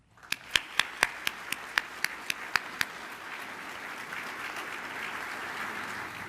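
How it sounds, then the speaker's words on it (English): A few distinct, sharp handclaps ring out first, then swell into steady, full applause from an audience honoring Culpeper County first responders at a 2023 valor awards event, continuing evenly to the end. "give a huge round of applause for all of our Culpeper County first responders"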